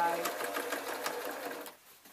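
A sewing machine stitching the binding on an art quilt, a fast even run of needle strokes at close range that stops shortly before the end.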